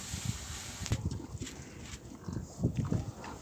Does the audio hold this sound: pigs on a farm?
yes